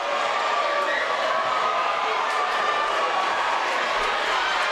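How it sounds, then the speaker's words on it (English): Crowd at a Nebraska Class A boys high school basketball game between Omaha South and Omaha Central, a steady loud roar of cheering that fills the gym continuously without breaks. "And the crowd is going wild."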